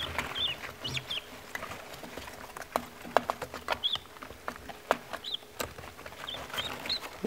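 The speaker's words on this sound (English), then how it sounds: "There's all the little babies, all the little guineas eating, and Mama T's over here happy in her dirt bath" Guinea fowl chicks and quail peck and cluck softly while eating, with scattered light patter, brief chirps and small scratching taps throughout, close and fairly quiet.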